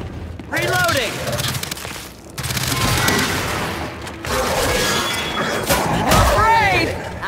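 Gunfire rattles through a busy firefight in the video game Gears 5, bursts of shots and booms interleaved with shouted voices and brief pauses between volleys.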